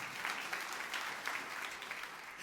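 A church congregation applauds during a Christmas Day sermon, a steady, dense wash of many hands clapping at a distance, fairly faint and continuous throughout.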